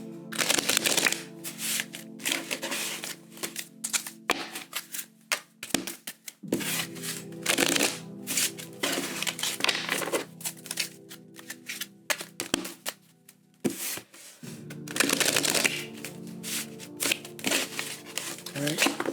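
A tarot deck is shuffled several times, crisp riffling bursts separated by pauses, close to the microphone with someone speaking between the shuffles.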